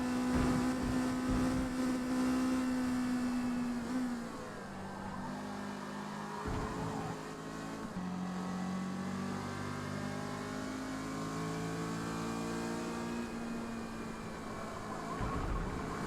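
Mazda MX-5 race car engine in Forza Motorsport at Kyalami, C class, a steady droning engine tone that drops as the car slides through a corner, then holds and climbs again.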